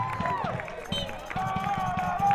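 Crowd at a non-league soccer match in America reacting to a goalkeeper's save with scattered clapping and cheers, rhythmic claps mixed with shouts, whistle-like tones and nearby talking.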